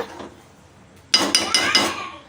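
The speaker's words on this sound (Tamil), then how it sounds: "ஒரு ஸ்பூன் நெய்யை ஆட் பண்ணிவிட்டு எல்லாத்தையும் சேர்த்துட்டு மிக்ஸ் பண்ணி விட்டுக்க வேண்டிதான்" A spoon scrapes and clinks against a pot while dal khichdi is stirred with ghee, with four quick metallic strokes in a rhythmic burst after a quiet start.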